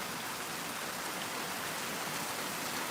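A steady, dense downpour from a hurricane rain band hisses continuously and evenly, a broad wash of raindrops on surfaces with no voices over it.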